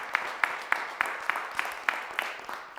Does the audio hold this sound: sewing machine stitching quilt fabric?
no